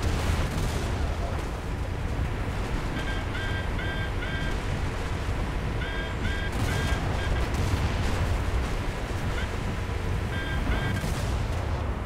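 Naval gunfire in War Thunder: a continuous heavy roar of ship cannon booms and rumbling explosions, with repeated high electronic beeps layered on top, loud and dense throughout with no pauses.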